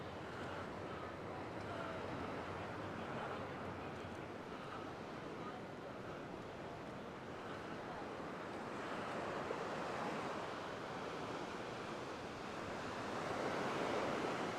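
Waves wash onto the sandy shore of Paphos beach in Cyprus, a steady, wide surf roar mixed with wind buffeting the microphone, fairly faint and continuous throughout with no voices.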